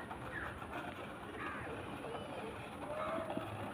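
Domestic pigeons give faint, scattered calls and soft coos outdoors against a steady background hum, with a murmur of voices nearby.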